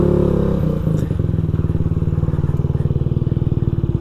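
A Honda Ruckus 49cc scooter with a modified engine idles close by, giving a loud, rapid, steady putter with a low throbbing pulse that holds evenly from start to finish.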